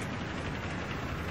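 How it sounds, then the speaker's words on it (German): T-90A tank engine in Battlefield 3, rough like a broken exhaust: a steady, dense, low rumbling roar that holds unchanged throughout a brief moment. "der richtige Russen-Sound vom T90A. Ist einfach geil. Macht ziemlich so ein bisschen an wie ein kaputter Auspuff"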